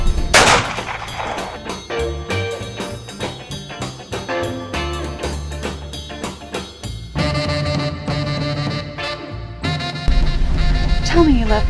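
Gunfire in a crime-drama film trailer: sharp, punchy shots burst out repeatedly over a dense, driving musical score, with voices speaking in between and the mix growing louder toward the end.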